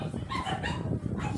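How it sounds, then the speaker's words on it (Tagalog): A dog barks and yelps noisily for a moment in the background of a Tagalog-language online game session, the sound steady and fairly close. "Ang ingay ng aso."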